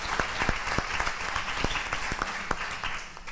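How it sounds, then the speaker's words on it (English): Steady applause from a seated audience at a Senate Select Committee on Aging and Long-Term Care hearing, honoring a panel, with individual sharp claps standing out above a dense, even patter throughout. "Let's give our panel another round of applause."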